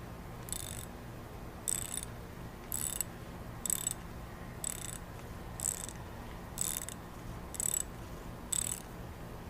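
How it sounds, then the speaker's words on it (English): A hand ratchet tightens a chain tensioner bolt on a bike project, giving a steady series of about ten crisp clicking bursts in a regular rhythm. The ratchet is close and moderately loud. "And you get the rest of the way with the ratchet."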